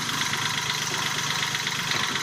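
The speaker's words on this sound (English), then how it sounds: "Right now I'm pressing on the mechanical kill switch, which cuts off fuel supply to the fuel injectors, switching the engine off" A diesel boat engine idles at a steady, even rumble with a faint rhythmic knock, running continuously and close by with no voices.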